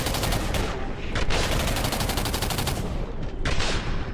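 Gunfire in the video game Singularity comes as a loud, dense stream of rapid shots that barely pauses for the whole stretch.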